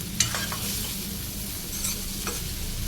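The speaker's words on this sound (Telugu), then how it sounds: "మధ్య మధ్యలో కలుపుకుంటూ ఫ్రై చేసుకోవాలి" Ivy gourd (dondakaya) frying in a pan, a steady soft sizzle with occasional scrapes and clicks of stirring, close and alone.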